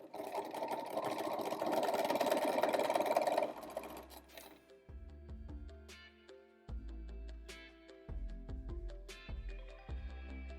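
A home sewing machine stitches fabric scraps through two layers for a scrunchie, giving a dense, steady motor whir for about three seconds before stopping abruptly. Music with plucked notes follows.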